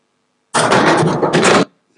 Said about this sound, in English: all drink vending machines emit a unique and loud sound when the drink is pulled down from the machine into its outlet